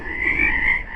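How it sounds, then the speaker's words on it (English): Frogs croak in a dense, continuous chorus, a steady rasping drone with slight swells that carries on without pause or any voices. "These sound like frogs."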